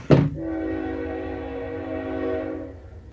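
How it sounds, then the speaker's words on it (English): A train horn sounds close and loud in one long sustained blast of several steady tones, starting with a sharp onset and holding for about three seconds over a low rumble of the passing train, with no talk. "Let's wait for the train to end."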